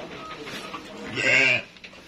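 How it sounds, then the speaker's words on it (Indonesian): Goats bleat in a pen on a goat farm, one loud wavering bleat rising above a steady background of fainter animal calls and murmur. "Nah, ini peternakan kambing"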